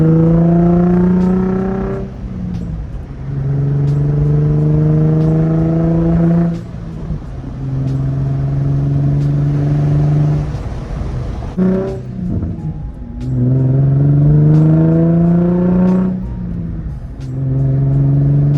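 A Nissan 350Z engine revs up in long rising pulls, its pitch dropping sharply at each gear change, loud and close throughout.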